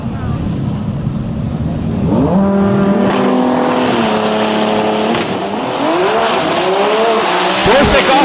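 Drag race cars, a 2009 Nissan GT-R and a rival, launch hard off the starting line at a qualifying event, engines roaring loud and continuous with rising gear-change sweeps and tire squeal, an announcer talking over the noise.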